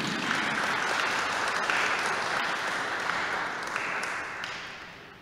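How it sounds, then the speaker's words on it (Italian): A crowd applauds steadily for several seconds, the clapping dense and even before it gradually tapers off. "vorrei chiedervi di fare un altro applauso per gli amici degli Uffizi"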